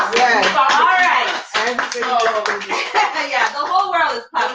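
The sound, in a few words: audience clapping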